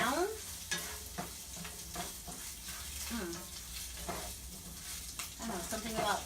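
Turkey bacon and Brussels sprouts fry and sizzle steadily in a pan, broken by repeated stirring scrapes and clatter, with a few brief bits of talk over the cooking.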